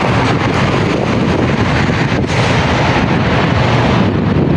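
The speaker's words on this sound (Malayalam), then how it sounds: "അത്രയ്ക്ക് നല്ല കാറ്റാണ് കേട്ടോ, ഭയങ്കര കാറ്റാണ്" Strong hot wind in Saudi Arabia buffets the microphone with a loud, continuous roar and rumble that never lets up, with no voices heard.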